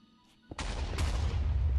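Explosion in Minecraft, a sudden loud blast after near silence at about half a second, then a sustained heavy rumble with a second surge, filling the rest of the clip with no talk.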